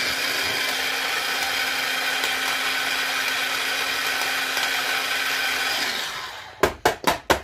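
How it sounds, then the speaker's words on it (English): A blender blending soaked, uncooked lentils, a loud steady whirring grind for about six seconds that cuts off, followed by four short sharp bursts of pulsing. "we're going to blend this up"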